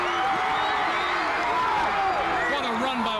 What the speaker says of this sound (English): this will get the homecoming crowd going